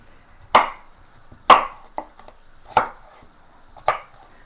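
A knife chops potatoes into quarters on a cutting board, four sharp, close thuds at an even, unhurried pace with a faint extra tap between the second and third.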